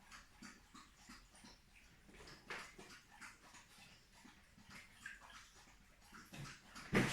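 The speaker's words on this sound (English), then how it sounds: "that's my dog having a drink of water" A pet dog laps water from a bowl close by, a steady run of small wet slurps over about seven seconds, ending in a louder clatter.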